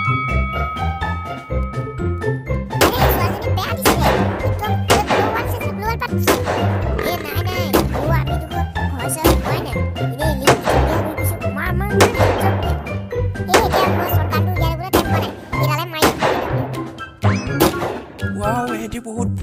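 Gunfire in the Free Fire video game, heard as repeated sharp bursts and single shots at uneven intervals under busy background music, with voices talking throughout.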